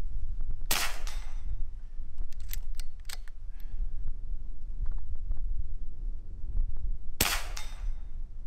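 An AEA HP Max .30 caliber air rifle fires outdoors, two sharp, loud reports several seconds apart with faint clicks of handling between them, all over a steady wind rumble.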